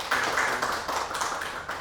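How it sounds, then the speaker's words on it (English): An audience applauds a special guest being welcomed, a dense, steady patter of many hands clapping at close range that carries on throughout without a break or any voices. "Everybody give a round of applause."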